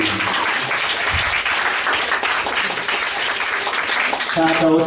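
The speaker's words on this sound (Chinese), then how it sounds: "掌声鼓励鼓励。" Audience applause at a Christmas concert by a singing class, a dense, steady burst of clapping from a crowd that runs the full length and fades into a short musical tone at the end.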